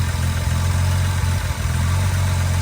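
A 1961 Jaguar E-Type Series I engine idles steadily, a close, even low rumble with a smooth regular pulse throughout and no talking.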